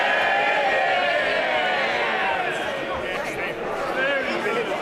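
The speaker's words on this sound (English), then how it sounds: "They're cheering a majority of 18." MPs in the House of Commons raise a loud, sustained cheer after a division vote, a dense wall of many voices shouting and calling together, steady throughout with slight swells, close and filling the chamber.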